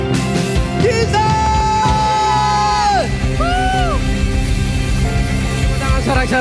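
A church congregation at a worship service at Gibeon Church in Surabaya cheers loudly, with whoops and shouts over sustained music that fills the whole stretch.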